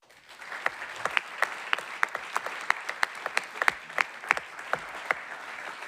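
An audience claps at a regional sports awards ceremony, a dense, sustained round of applause with sharp individual claps standing out, loud and close, with no talking over it.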